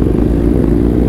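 A modified Kawasaki ZX10R sport bike engine runs loud and close at a stunt practice, a dense low rumbling idle with rapid firing pulses and light mechanical clatter, no speech.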